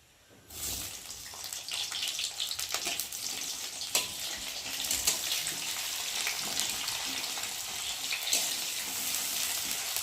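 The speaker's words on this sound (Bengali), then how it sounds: "এখন ওর মধ্যে আমি দিয়ে দেবো কষানো একটু পেঁয়াজ।" Onion frying with black cumin in a pan, a close steady sizzle that starts abruptly as the onion goes in and holds a bright hiss with occasional stirring clinks and pops.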